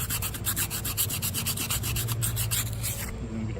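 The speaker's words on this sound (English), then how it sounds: "let's hit that with some sandpaper" Sandpaper rubbed briskly over flaking paint on a Mule 2510 tire rim, a rapid rhythmic scratching of back-and-forth strokes, loud and close, stopping near the end.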